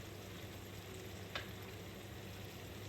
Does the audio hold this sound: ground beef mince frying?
yes